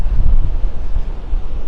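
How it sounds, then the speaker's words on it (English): Strong northeast wind on a beach at Delnor-Wiggins, North Naples, Florida, buffets the microphone in heavy, rumbling gusts, loud and continuous with no voices. "Super windy up here."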